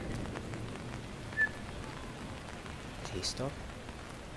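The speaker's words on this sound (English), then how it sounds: "it's raining so much" Heavy rain pours down during a walk under an umbrella, a steady close patter of drops on the surface with a brief question spoken quietly over it.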